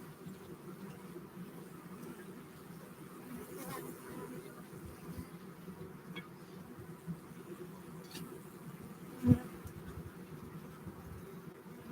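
Honeybees buzz steadily in a hive box during a hive installation, a low, even hum that stays fairly faint and close, with one brief knock near the end.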